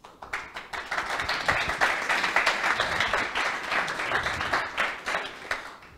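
An audience at a PostgreSQL conference round table breaks into applause, clapping building quickly from scattered hands into a sustained, moderately loud ovation.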